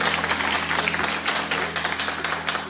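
A studio audience claps together at a comedy talk show, a thick, continuous wash of applause with a faint low hum running underneath.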